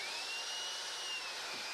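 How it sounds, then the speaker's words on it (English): A belt sander runs steadily on a small piece of wood in a workshop, giving a continuous whine with a faint tone that holds throughout, fairly quiet and with no talking. "This right here is it's a belt sander."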